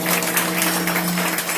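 A crowd claps along at a kirtan in a Vitthal temple. The clapping is thick and continuous with a faint steady hum beneath it, and no voices come through.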